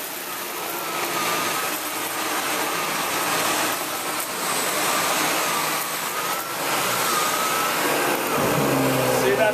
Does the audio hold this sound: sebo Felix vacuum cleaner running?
yes